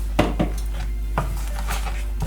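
Ground masala paste scraped from a vessel into a pan of Malvani crab masala, with a few sharp metallic clinks and knocks of a spoon against cookware over a steady low hum, close and moderately loud.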